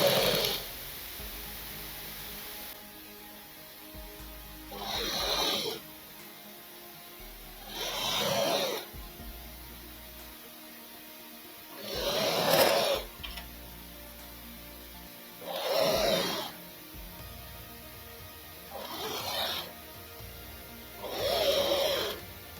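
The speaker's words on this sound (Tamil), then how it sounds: "அப்படியே இழுக்காமல் வச்சு தைச்சிக்கிட்டே வரணும்." A sewing machine stitches blouse lining fabric in six evenly spaced whirring bursts of a few seconds each, close and moderately loud, with quiet pauses between them and no talking.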